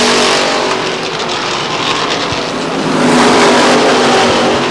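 Race cars roar around the oval at Lee Speedway in New Hampshire, a loud, sustained wash of engine noise that swells slightly as the pack charges past.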